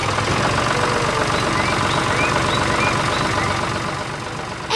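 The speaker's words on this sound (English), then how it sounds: "The bear parks his tractor, and the farm returns to its quiet, harmonious routine." A farm tractor idles with a steady, low, rumbling drone that holds at a constant level for several seconds and carries no talk.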